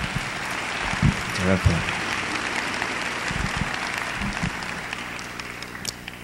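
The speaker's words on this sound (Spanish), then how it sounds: "primero un aplauso para él" Conference audience applauding a young man with Down syndrome after his introduction, a short burst of clapping from a hall crowd mixed with voices, and someone says thanks.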